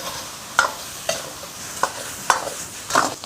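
Pork tripe stir-fried over high heat with rapeseed oil, ginger and scallion in a wok sizzles steadily, punctuated by five sharp scraping stirs of the spatula at regular intervals; no talking.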